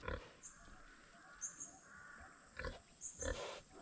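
Large pig grunting in a rural Philippine yard, several short rough grunts scattered at irregular intervals over faint outdoor background, moderately close.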